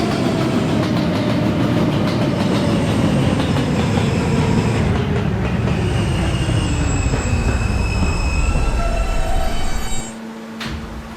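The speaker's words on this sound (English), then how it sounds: "This is a Catlin-bound K train." An R160A subway train on the K line rumbles loudly and steadily from the operator's cab, wheels squealing on the track, before the noise drops off near the end.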